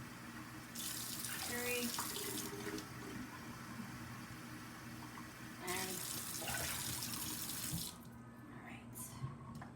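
Tap water running into a pot while rice is rinsed, a steady splashing hiss in two bursts with a quieter trickle between, as a voice counts nearby.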